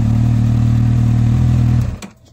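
Honda CBF1000 motorcycle engine held at a steady high rev around 8,000 rpm, loud and close, then cutting off abruptly near the end.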